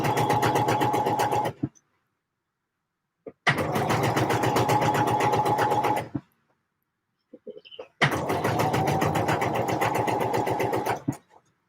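A sewing machine stitches a Deer and Doe Lupin jacket in three loud, close, steady bursts of rapid whirring, separated by short silent pauses.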